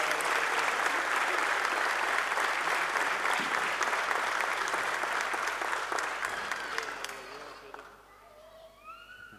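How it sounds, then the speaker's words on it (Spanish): An audience claps steadily and warmly at a local police award ceremony in Mogán honouring officers for over twenty years of service. The dense applause holds for several seconds, then fades away near the end. "Un aplauso, muchas gracias."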